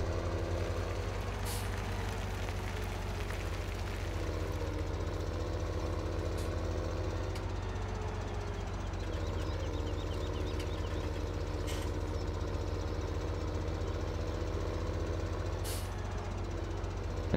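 A tractor engine in the video game Farming Simulator 17, pulling a forage wagon while chopping barley, runs with a steady low drone and rumble for the whole stretch, with a few brief hissing bursts over it.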